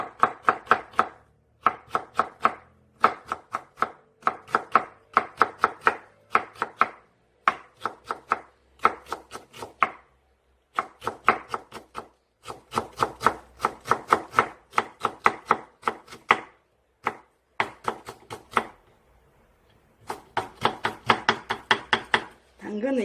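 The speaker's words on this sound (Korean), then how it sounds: "이렇게 얇게 곱게 채를 썰어 주세요" A knife finely julienning carrots on a cutting board taps out rapid, crisp bursts of close chops in quick runs separated by short pauses, continuing steadily with no talk over it.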